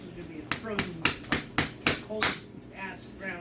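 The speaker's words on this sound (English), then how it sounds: "I drive Delta nails, and it's a horsehead hammer." A farrier's horsehead hammer drives Delta nails into a horseshoe on a reining mare's hoof, giving seven sharp, evenly spaced metallic strikes close up, followed by a short pause and a softer scrape.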